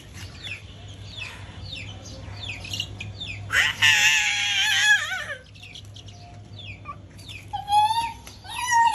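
Chickens cluck and squawk in a busy burst, with a loud flurry in the middle and scattered calls before and after, close by, with no talking.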